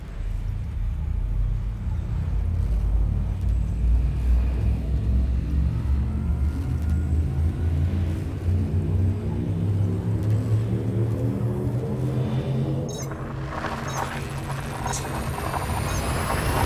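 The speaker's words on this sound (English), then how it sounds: "Frameshift drive charging." A frameshift drive charges in the space game Elite Dangerous as a deep, steady rumbling hum whose tones slowly rise in pitch over many seconds. It ends in a brief brighter surge, loud and continuous throughout.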